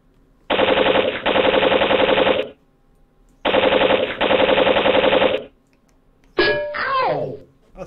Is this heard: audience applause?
no